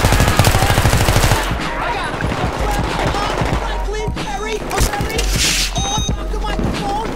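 Rapid automatic bursts from an M27 IAR light machine gun in the Battlefield 3 Operation Métro close-quarters map, loud and dense, with continued firing and clatter over several seconds and faint voices underneath.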